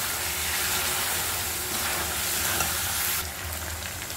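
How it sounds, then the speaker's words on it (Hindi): Ginger garlic paste fries for biryani in a pan, a dense, steady sizzle and hiss filling the whole stretch, close and continuous with faint stirring, and nobody speaking. "अदरक लहसुन की महक आएगी तो थोड़ी देर इसको भून के इसका कच्चापन निकाल देंगे"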